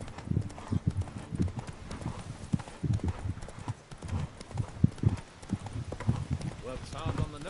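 Hoofbeats of the horse Roach galloping in the video game The Witcher 3, rhythmic clip-clop under steady talk throughout, with a brief whinny.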